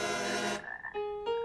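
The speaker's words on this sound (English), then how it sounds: "You must get rid of these frogs." Cartoon frogs croak in a loud harmonic burst for over half a second, then a few higher, sustained croaking tones follow alone, close and bright.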